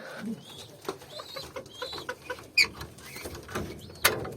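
Pigeons in a loft, including a Belgian hen and a homing bird, give soft low coos and scattered chirps at close range, with faint rustling and a few sharp squeaks, no talking.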